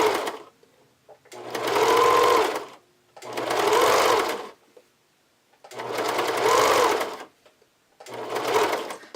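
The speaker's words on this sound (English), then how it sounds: "as you zigzag stitch this on, you're going to very gently pull on the elastic" Sewing machine zigzag stitching elastic along the cut edge of fabric for a thong, running in four separate bursts of a couple of seconds each with short quiet pauses between them, close and loud with no talking.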